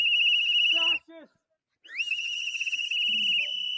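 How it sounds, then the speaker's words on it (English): Loud, piercing whistles blown at a protest blast in long shrill bursts with a short gap between them, close to the listener, with brief chirping warbles mixed in. "the person recording it's the one that was doing the whistling"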